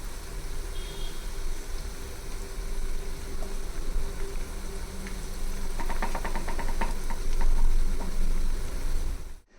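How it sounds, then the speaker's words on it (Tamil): Vada deep-frying in hot oil, turned to cook on both sides, gives a steady bubbling sizzle with scattered crackles that swell slightly toward the end, with no talk over it. "இது 2 பக்கமும் நல்லா திருப்பி போட்டு ஃப்ரை பண்ணி எடுத்துடலாம்."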